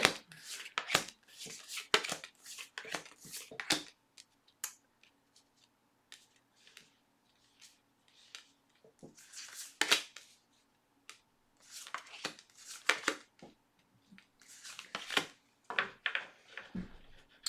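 Tarot cards are shuffled in bursts of crisp riffling and flicking, with quiet gaps between rounds, close to the listener.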